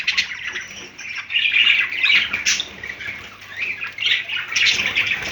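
Many budgerigars chatter and squawk together in a busy, continuous flock, close by, with rapid high chirps and occasional wing flutters.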